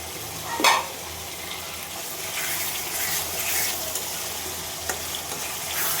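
Whole chilies dropped into a frying spice masala for banana blossom ghonto, a steady close sizzle with a sharp splash near the start and occasional stirring scrapes.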